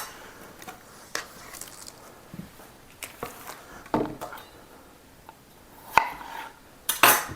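A knife slices through bacon-wrapped high-protein snacks, giving a string of sharp, close clicks and taps against the board and utensils, spaced irregularly and fairly quiet overall.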